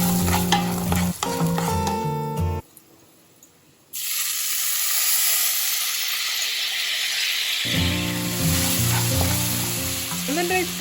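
Dried red chillies tempering in hot oil for lemon rice, a loud close sizzle and spatter with stirring clatter, briefly dropping out before a strong hissing fry returns and continues.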